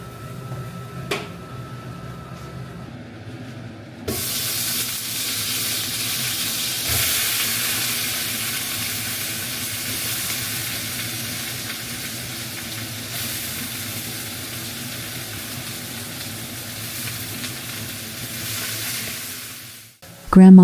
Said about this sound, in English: I hurry to stir-fry the vegetables and serve the meal quickly